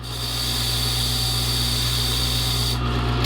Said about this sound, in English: We're going to deburr it